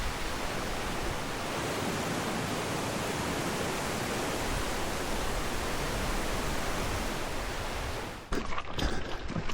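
Steady, loud roar of river rapids rushing along a quarry trail, a continuous broadband wash of water that cuts off abruptly near the end into quieter handling noise.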